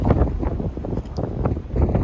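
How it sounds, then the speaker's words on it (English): Strong wind during a snow squall buffets the microphone in heavy, gusting rumbles, loud and continuous throughout. "it's windy out here"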